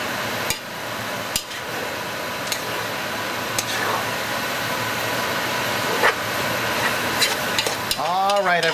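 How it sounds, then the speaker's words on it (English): Food being stirred in a cooking pot for a Surinamese bita w'wiri moksi alesi dish, a steady sizzle underneath with intermittent scraping strokes across the clip and a louder clatter near the end. "We're gonna give that a quick stir."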